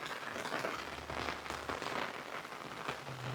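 Rain falls steadily during monsoon in Gujarat, a soft, even hiss with faint patters and occasional crackling drops, low in level and continuous throughout.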